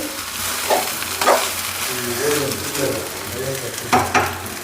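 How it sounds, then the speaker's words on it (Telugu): Spicy egg fried rice is stirred and tossed in a hot frying pan, and a steady sizzle runs under repeated scraping strokes of the spatula. It is close and fairly loud throughout. "రైస్ అయితే ఒకసారి కలుపుకుందాం"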